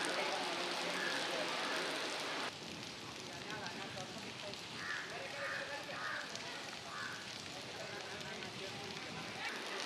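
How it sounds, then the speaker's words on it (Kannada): Heavy monsoon rain pours steadily in the Western Ghats region beside a flooded river where temples are submerged, a dense, continuous wash of falling water that drops slightly in level after a few seconds and runs on unbroken. "ಮಳೆ ಆರ್ಭಟ ಜೋರಾಗಿದೆ."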